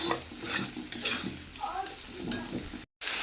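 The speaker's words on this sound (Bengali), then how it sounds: "এখন গ্যাসের ফ্লেমটা আস্তে দিয়ে রেখেছি যাতে মশলাটা পুড়ে না যায় আস্তে আস্তে যাতে কষা হয়" Spice paste with coconut slowly frying in a pan over a low gas flame, a steady soft sizzle with stirring scrapes throughout and a brief dropout near the end.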